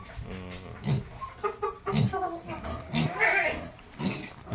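Pigs on a farm being cleaned with a power sprayer, with grunting and squealing animal calls mixed with clucking-like sounds in a busy, close livestock pen, under and between talking.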